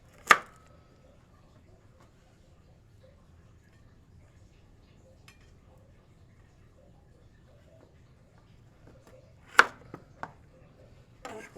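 A knife chops through food on a board in the kitchen, making one sharp cut near the start and then two or three quicker strikes near the end, with quiet stretches in between.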